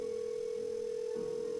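A steady telephone tone from a handset in the 1998 Nancy Drew: Secrets Can Kill game, holding one even pitch throughout with a low background hum and no voices.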